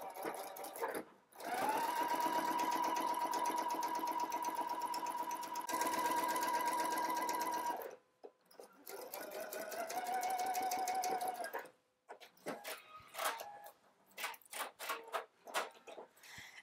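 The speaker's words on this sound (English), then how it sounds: "I want to reinforce the seam with just a second line of stitching about a millimeter next to the first one" A sewing machine stitches a second reinforcing seam line on pants, running in a steady whirring hum for several seconds, pausing, then running again, followed by scattered ticks and handling clicks.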